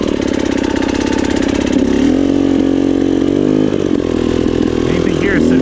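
Enduro dirt bike climbing a steep hill on a hard enduro training ride, its engine loud and close, holding a strained steady drone with a shift in pitch partway through as it works up the slope.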